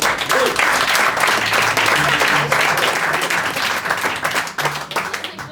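Audience applause at an improv comedy show in Paris, loud dense clapping from a full crowd sustained for several seconds before starting to thin.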